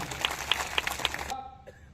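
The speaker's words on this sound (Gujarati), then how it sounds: "બધા માટે એકવાર જોરદાર તાળીઓ પાડી લો." A crowd at a political rally claps in an even, rhythmic beat for about a second, moderately loud, then the clapping cuts off and only faint room sound remains.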